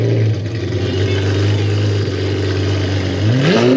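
A McLaren 765LT engine revs loudly through its quad exhaust, a steady high-powered drone that climbs sharply in pitch near the end, close and alone without talk.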